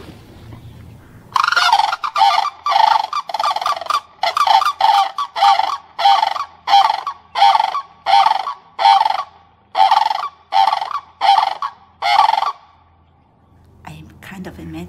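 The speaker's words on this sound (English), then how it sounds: "The resident pair fly in and listen to their tootling, trumpeting call." A resident pair of sandhill cranes give loud, rhythmic tootling, trumpeting calls in a rapid series of about fifteen bursts, close by, ending abruptly into quiet.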